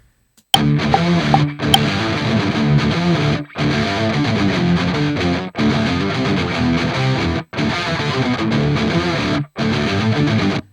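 A heavily distorted electric guitar, played through the Neural DSP Archetype Gojira amp plugin, chugs through a driving riff in 5/4 in loud bursts, separated by brief sudden stops.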